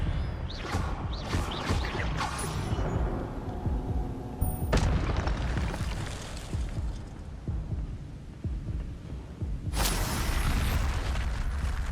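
Repeated Expelliarmus, Incendio and Levioso spell blasts in Hogwarts Legacy hit in a steady stream, with booming bursts and crackling impacts layered over a dense, continuous rumble of combat.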